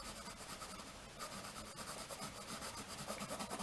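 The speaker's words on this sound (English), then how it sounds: "I'm going to add a bit more shading and kind of cement a bit more of the form" Graphite pencil shading on paper produces a steady, close, soft rubbing scratch that runs continuously with slight rhythmic back-and-forth strokes and no talking.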